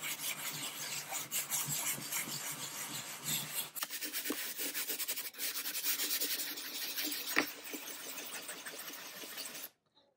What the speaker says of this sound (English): I'm just letting the sandpaper do the work.